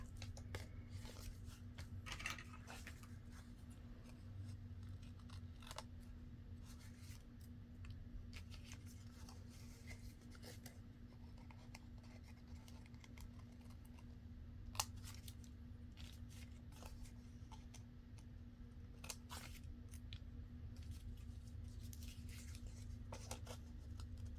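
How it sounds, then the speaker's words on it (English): Scissors snip off the loose ribbon ends of a twisted ribbon craft, giving soft, quiet cuts scattered over a steady low hum with no talking. "we're going to go ahead and trim these off"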